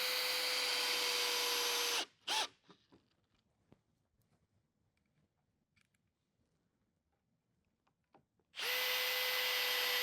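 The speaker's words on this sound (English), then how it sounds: "you start out on a low setting on your drill, just to make sure you don't have too much torque on them" A power drill on a low setting drives screws into a tall cabinet, two loud sustained whirring bursts at the start and end, separated by a short blip and a quiet stretch with faint scattered knocks.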